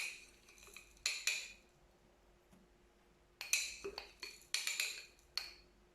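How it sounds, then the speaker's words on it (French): A spoon clinks against a mixing bowl as three tablespoons of sugar are added for an Alsatian tart, in three quick bursts of sharp metallic taps separated by quiet gaps, close and fairly light. "Je vais ajouter maintenant les 3 cuillères à soupe de sucre."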